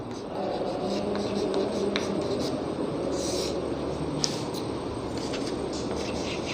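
Chalk or marker scratching on a board during a math class, soft continuous writing strokes under a steady background hum, without clear speech.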